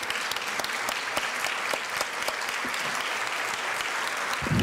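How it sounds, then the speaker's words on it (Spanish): A parliamentary audience rises to its feet and applauds, a dense, steady wash of many hands clapping at close range, sustained evenly throughout and swelling slightly at the end. "si nos levantamos de pie y aplaudimos brevemente"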